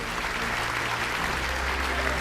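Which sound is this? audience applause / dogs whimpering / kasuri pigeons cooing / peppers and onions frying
audience applause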